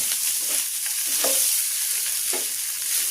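Rice stir-frying with dried shrimp in a hot pan, a continuous bright sizzle with a few scraping stirs, close and steady, no speech.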